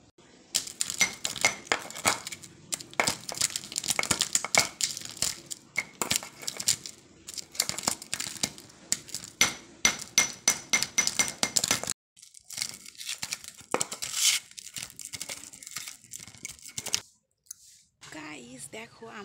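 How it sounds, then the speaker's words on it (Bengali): Wood apple pulp is mashed by hand with spices, making close, rapid, irregular squelching, crunching and slapping noises in dense bursts. Brief pauses break the mashing near the end. "এগুলোকে আমি এবার পানকুচিনি দিয়ে সুন্দর করে কুচিয়ে মাখিয়ে নেবো"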